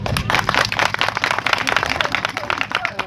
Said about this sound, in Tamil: இந்த நாடகத்தை ரசிக்கிறவங்க மட்டும் ப்ளீஸ் எனக்காக கைதட்டுங்களே